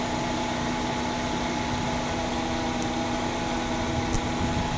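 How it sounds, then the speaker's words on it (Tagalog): A repaired electric fan runs steadily after a grounded wiring fault that kept blowing fuses, producing a constant loud motor hum with a tonal whine and no pauses. "gumagana na yung pan"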